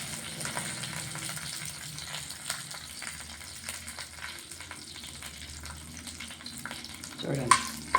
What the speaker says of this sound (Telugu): చూడండి, కొంచెం కరివేపాకు కూడా వేస్తున్నాను